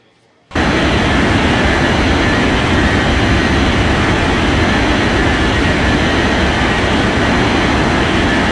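Aircraft engines in the Unmatched Air Traffic Control game kick in abruptly as a loud, steady, unbroken roar that holds at the same level to the end.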